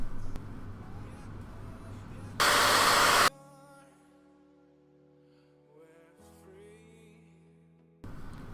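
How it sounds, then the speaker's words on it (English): Handheld blow dryer aimed at a section of faux locs, a loud steady broadband whoosh running for about a second alone before cutting off, with quieter background sound around it. "we're gonna try to blow dry this section right here and see if it works"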